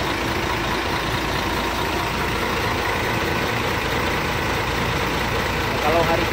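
A bus running the Medan to Banda Aceh route idles with a steady low engine rumble, constant and close, with a faint voice surfacing near the end.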